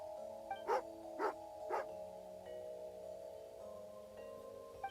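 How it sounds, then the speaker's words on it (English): Dog barking in Genshin Impact, an angry hound giving three sharp barks in quick succession over a steady tonal music bed, fairly close and clear, with no talk. "Oh, angry doggy."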